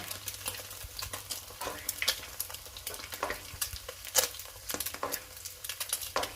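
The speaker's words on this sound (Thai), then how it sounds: "จะใช้เวลาในการทอดไข่เยี่ยวม้าสักครู่หนึ่งนะคะ" Century eggs frying in oil over low-to-medium heat, with a crackling sizzle broken by irregular sharp pops and spatters, as oil is spooned over them; no talking.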